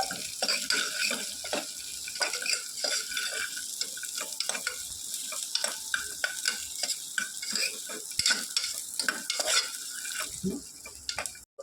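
Garlic and chillies sizzle in hot oil while a utensil stirs and scrapes the pan in a steady rhythm, close and continuous, no talking, while making a brinjal and tomato dish.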